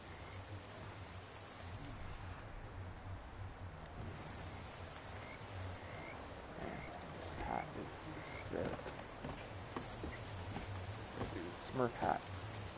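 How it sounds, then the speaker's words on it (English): Frogs croak in a rainy swamp in Red Dead Redemption 2, scattered low croaks over a steady patter of rain, with a player talking quietly now and then. "Is that frog threatening me?"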